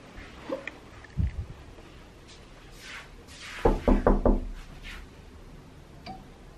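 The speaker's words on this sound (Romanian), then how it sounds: "Cine bate la ușă?" Knocking on a door in two bursts: a short set of raps first, then a longer, louder run of several quick knocks, fairly close in a quiet room.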